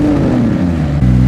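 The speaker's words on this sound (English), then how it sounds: "the exhaust also sounds amazing." A McLaren Senna supercar's exhaust rumbles loud and close in a deep, throaty drone, with its pitch sagging before a sharp jump at a fresh rev, heard alone.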